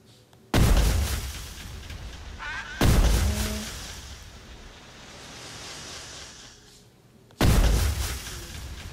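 TNT fired and exploding in Roblox Bedwars: three loud, sharp booms spaced several seconds apart, each decaying into a rumbling tail, with faint game sounds between them.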